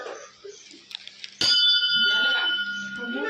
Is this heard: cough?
no